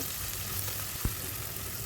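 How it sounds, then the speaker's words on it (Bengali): Shrimp masala spice paste frying in a pan gives a steady, close hiss of sizzling with one brief knock near the middle, and no voices. "পানি দেওয়ার পর মশলাটাকে একটু ভালো করে কষিয়ে নিলাম।"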